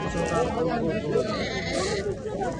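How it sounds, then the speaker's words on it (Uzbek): Sheep bleat at a busy livestock bazaar, their calls rising over close chatter and bargaining voices, with steady crowd noise underneath. "Qo'ylar qaytadi."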